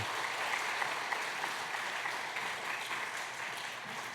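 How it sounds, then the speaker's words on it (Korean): A church congregation applauds at a Sunday service during a certificate presentation, a steady wash of many hands clapping at a moderate distance, even and sustained without talk. "수료증과 선물을 드릴 때 박수로 축하해 주시기 바랍니다."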